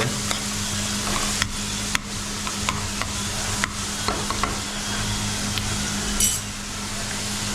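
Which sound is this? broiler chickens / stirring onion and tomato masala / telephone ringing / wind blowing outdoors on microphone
stirring onion and tomato masala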